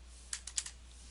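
A few quick keystrokes on a computer keyboard, four soft clicks bunched within about half a second against a quiet room.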